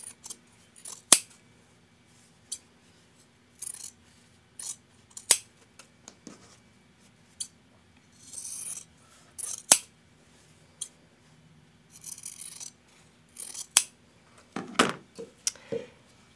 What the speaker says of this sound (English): I'm going to cut off a quarter inch from the stitch line.